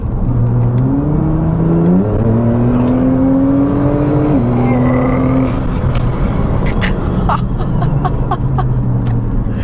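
A 2017 Nissan GT-R R35 with its turbocharged engine accelerates hard, revving up and shifting through gears in a loud, rising roar heard from inside the car, with voices faintly in the background.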